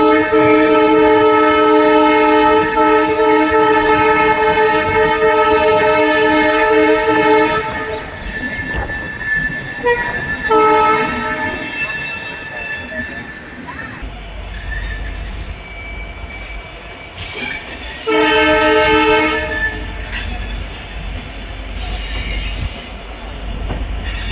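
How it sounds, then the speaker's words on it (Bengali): The Upasana Express, heading from Howrah, rolls along at speed, loud and steady, with rumbling wheels, clattering track noise and tonal squeals rising and falling throughout. "কিছুক্ষণের মধ্যেই ট্রেনটি যথেষ্ট ভালো স্পিড নিয়ে নিয়েছে।"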